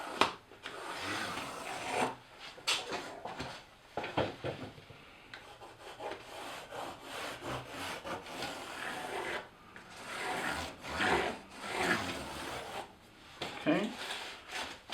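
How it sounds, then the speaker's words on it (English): Marker tracing along both edges of a ruler on recycled cardboard: close, uneven scratchy rubbing strokes in repeated bursts with brief pauses between them. "we're going to trace both sides of the ruler"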